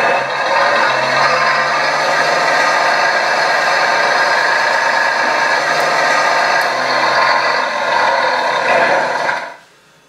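A 1/14 scale RC bulldozer model runs with a loud, steady mechanical whir and grinding gear noise for about nine seconds, close to the listener, then cuts off abruptly.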